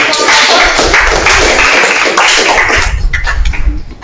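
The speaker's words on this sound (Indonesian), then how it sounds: "tepuk tangan dulu. Aplaus." An audience applauds at a training session, a loud, dense wash of clapping that fills the clip before thinning toward the end.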